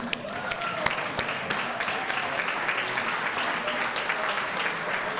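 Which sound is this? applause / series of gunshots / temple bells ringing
applause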